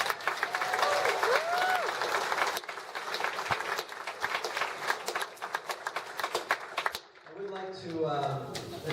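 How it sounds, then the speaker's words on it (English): A crowd gives a round of applause for graduates, clapping that comes and goes for several seconds with a few voices over it, then fades into nearby talking at the end. "So let's give these guys a round of applause."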